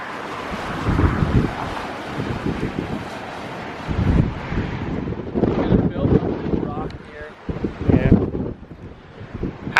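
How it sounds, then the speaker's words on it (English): Strong wind blowing outdoors by the sea on a Martha's Vineyard beach, buffeting the microphone in heavy rumbling gusts over a steady rush of surf, with a voice talking at times. "somebody is enjoying the wind today"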